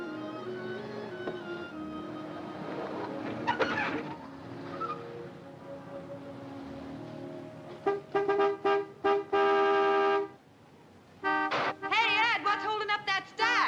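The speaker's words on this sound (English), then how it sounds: "Some horn-happy creep just pulled in. Let him honk." A car horn honks repeatedly outside a roadside business in a 1955 crime film, several long insistent blasts with short gaps near the end, following earlier indistinct talk over a low hum.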